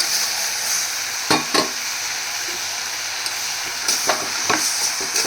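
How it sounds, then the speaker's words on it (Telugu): Chickpeas added to a potato curry for puri and stirred in a pan, a steady close sizzle broken by a few sharp scrapes and clacks of the spoon against the pan. "ఇప్పుడు శనగలు వేస్తున్నాను."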